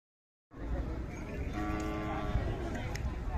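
A cow moos once in a long, drawn-out call amid the busy outdoor background of a cattle market.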